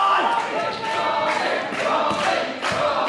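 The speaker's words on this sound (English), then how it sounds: "Crowd firmly behind Robbie Hart here." A wrestling crowd at an independent ESPW show cheers and chants steadily behind Robbie Hart, a loud, continuous roar of voices with a commentator talking over it.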